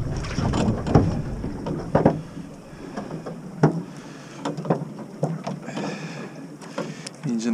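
A small fishing boat's engine runs steadily on open water during a crab-pot trip, a broadband rumble with wind buffeting the microphone and occasional knocks and clatter.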